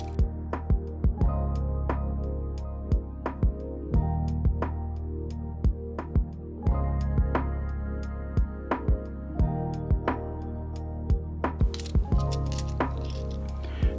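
Bags of 50p coins being torn open and emptied, the coins clinking and chinking in quick irregular bursts over a steady rustling background, close and fairly loud.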